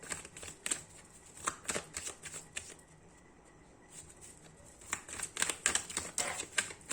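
Tarot cards being shuffled by hand in quick riffling bursts, close and fairly quiet, with a brief lull in the middle before brisk shuffling resumes; no one speaks.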